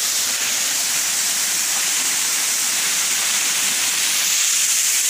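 A waterfall near a cave at Mechuka in Arunachal Pradesh gives a steady, loud, broadband rushing roar that runs unbroken from start to end, with no voices over it.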